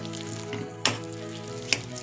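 Dal khichdi ingredients frying in a pan, a steady close sizzle with two sharp clinks of stirring against the pan.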